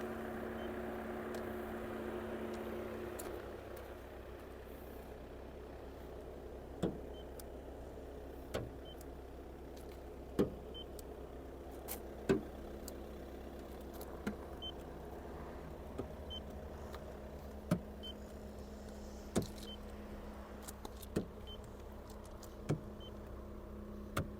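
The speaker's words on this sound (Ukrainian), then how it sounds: "Двигун все працює чітко, демпфера не чути." A 2021 Skoda Superb Sport Line 4x4 engine idles in a steady low hum, with small clicks ticking through it at irregular intervals and no voices.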